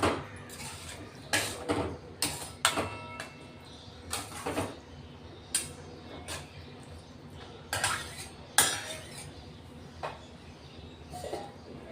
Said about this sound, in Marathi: दही चांगलं मिक्स करून घ्यायचं मसाल्यांमध्ये